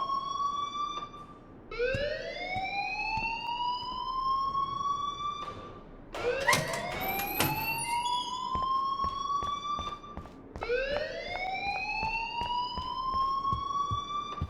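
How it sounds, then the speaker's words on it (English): An alarm in the Life is Strange video game wails over and over, each long call sweeping upward in pitch and then holding. The repeating blasts are loud and steady, with no talk. "please turn off that alarm since that's your job"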